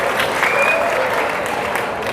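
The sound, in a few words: applause for students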